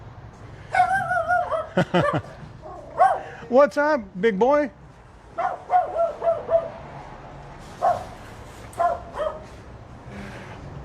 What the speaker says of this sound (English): Here's a vicious guard dog